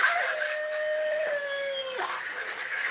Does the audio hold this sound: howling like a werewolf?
yes